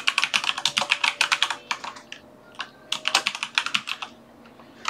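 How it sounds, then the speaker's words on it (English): Someone types on a computer keyboard in fast, loud bursts of close clicking, stops briefly, then types again, with no talking. "Just typing out the team."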